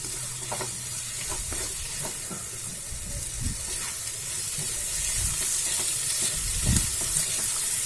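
Paneer bhurji with fresh coriander sizzling in a pan, with a loud, steady frying hiss and a spatula scraping and stirring in repeated strokes close by.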